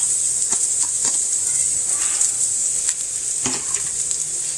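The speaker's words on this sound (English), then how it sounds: "what we're going to do is add these onions" Onions added to a hot pan, a constant bright hissing sizzle with occasional clicks and stirring taps, fairly close, no talking.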